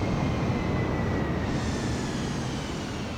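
Airplane engine in the Microsoft Flight Simulator video game, flying near Rzeszów-Jasionka, a steady broadband engine roar with a faint whine, continuous and moderately loud with no voices.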